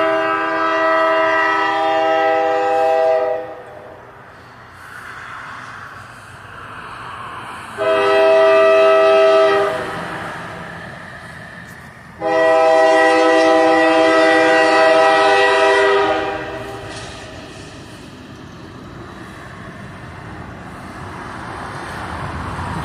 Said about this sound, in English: It's like a CSX intermodule train.